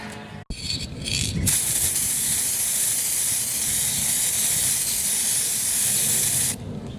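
Steady hissing spray from a gold spray paint can, a brief burst, then one long continuous spray lasting several seconds, close by.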